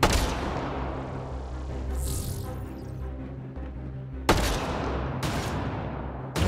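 Weapon fire in the video game Mass Effect Andromeda: sharp, loud shot bursts at the start, then a couple more sudden blasts later, separated by quieter stretches of game ambience.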